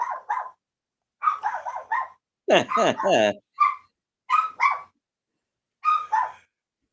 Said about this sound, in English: small dogs. They can hear a mosquito fart from a block away, and they bark out.